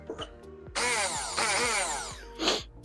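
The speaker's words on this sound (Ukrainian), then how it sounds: "Бормашина працює." A dental drill whines loudly for about two seconds, its pitch sweeping and wavering as it runs, set between quieter thumps and a brief final burst of noise.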